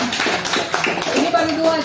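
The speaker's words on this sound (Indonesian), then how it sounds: "Tepuk tangan dong buat temennya." Applause from a group of community members at a police traffic-safety outreach session, a short burst of clapping mixed with chatter and voices in an indoor hall.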